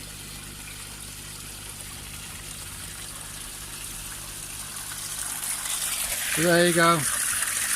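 Water gushing and trickling through a DIY garden pond overflow system, a steady rushing flow that grows louder, with a brief spoken remark near the end.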